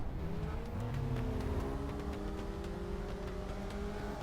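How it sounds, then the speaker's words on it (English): A 1996 Peugeot British Touring Car Championship race car idles on the starting grid, its engine a rough, continuous onboard drone with revs slowly rising and falling, loud and close. "Can hear some of the revs rising, so I think we'll be good to go in a few seconds time."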